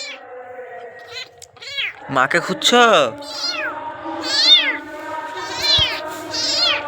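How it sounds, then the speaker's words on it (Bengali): A pet cat, just woken from sleep, meows repeatedly in rising, drawn-out calls, close to the microphone, while someone talks to it between and over the meows. "এখন মিয়াও মিয়াও করছে"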